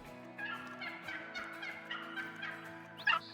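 Wild turkey gobbling in the hunting game Call of the Wild, a rattling gobble over layered tonal ambience, moderately distant, ending in a sharper louder call.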